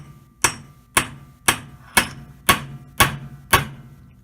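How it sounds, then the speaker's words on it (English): Seven sharp, evenly spaced hammer blows ring on steel on an anvil, each strike loud and close with a short ringing decay. "I'll just hammer that flat"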